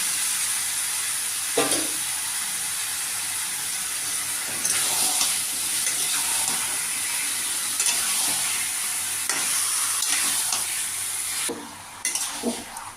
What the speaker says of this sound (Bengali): এবার মাংসটা আমি দিয়ে দিলাম মিডিয়াম আছে এটা করতে থাকবে